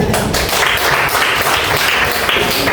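A classroom audience claps for a student group after its presentation, a dense, steady burst of applause from many hands that lasts throughout, close and fairly loud.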